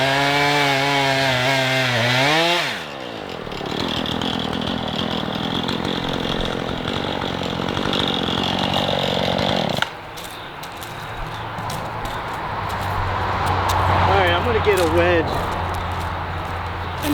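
A chainsaw revs loudly nearby, then bites into a tree trunk during tree removal with a sustained grinding drone, the engine pitch dipping and rising as it cuts.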